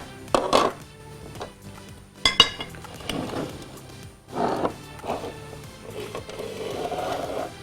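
Aloo bun kabab being dished out onto a plate, with intermittent clinks and scrapes of utensils against dishware in irregular bursts, close and moderately loud, with no talk.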